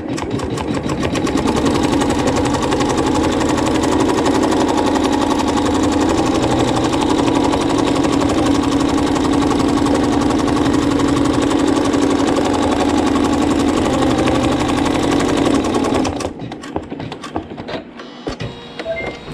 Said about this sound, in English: So I'll go ahead and stitch that little section down.